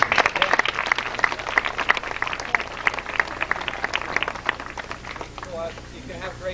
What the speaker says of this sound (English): If you have a little applause.